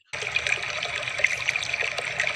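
Steady hiss and splatter of water from a faucet spraying upward like a fountain, a soft, close trickling spray that starts abruptly and runs on evenly.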